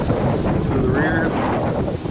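Wind buffets a microphone outdoors beside a car being fitted with coilovers, a loud steady low rumble filling the short stretch, with a faint voice in the background.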